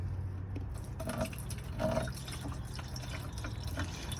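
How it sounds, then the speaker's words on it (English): Windshield washer fluid pours from a jug into the reservoir of a Ford F150 truck, a quiet trickling and gurgling fill heard close up with no talk. "We're gonna fill her up to the top"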